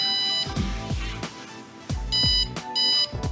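An ultrasonic distance sensor beeps in short, high-pitched bursts that repeat with brief gaps, alongside low thumping knocks.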